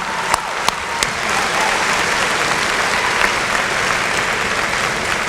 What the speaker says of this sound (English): Let's please give a round of applause to the summa cum laude graduates.